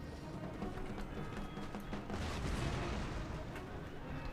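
Massed musket fire in a video game battle, a dense continuous crackle of distant shots with heavier booms rolling underneath, steady and fairly quiet throughout.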